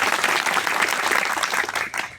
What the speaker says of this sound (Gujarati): એના માટે આપણે જોરદાર તાળીઓ તેમને વધાવી.